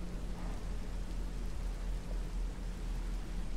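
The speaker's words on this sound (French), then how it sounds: "Ah bah il pleut." Rain falls in the survival game From The Fog, a steady dense hiss with a low rumble underneath, continuous and fairly close, with no voices.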